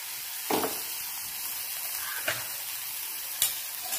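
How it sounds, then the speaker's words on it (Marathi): Ground masala paste sautés in a pan with a soft, even sizzle, and three separate scrapes of a spoon stir it at intervals. "हा वाटलेला मसाला थोडासा व्यवस्थित परतून घेऊ."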